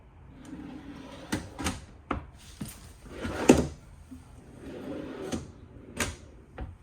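Slow-close storage drawers and cabinets in a 2024 Forest River Sierra 3800RK fifth wheel, with a string of soft, muffled slides and closing bumps spaced across the stretch, close by and moderately quiet, with no talk.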